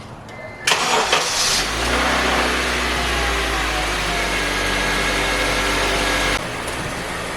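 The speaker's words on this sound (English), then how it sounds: "With the engine running in the background" A Honda CR-V engine, just after a timing chain replacement, cranks and catches, then settles into a steady, loud idle hum that runs for several seconds before cutting off.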